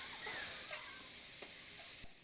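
Raw chicken sizzling and steaming under a hot clothes iron in a home kitchen, a steady soft hiss with faint crackles that drops away near the end.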